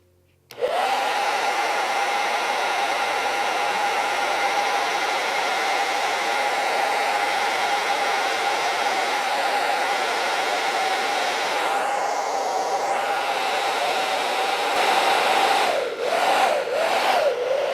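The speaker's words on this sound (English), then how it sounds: "Okay, so I'm just going to blow dry that real quick." A hair dryer blows steadily on acrylic paint, a loud close continuous whoosh with a steady hum that runs for most of the stretch, then wavers as the airflow shifts near the end. Nobody speaks.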